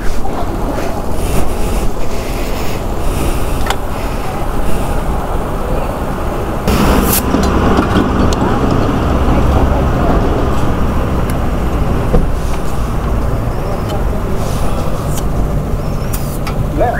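Motorbike ride in Sikkim, a steady engine and road rumble mixed with heavy wind buffeting across the whole stretch, continuous and loud with no clear pauses.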